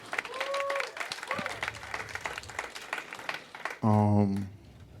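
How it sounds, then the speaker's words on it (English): A crowd claps steadily at a moderate distance at a comedy show, with a voice talking over it, before a loud sustained tone cuts in near the end. "Round of applause to Alicia."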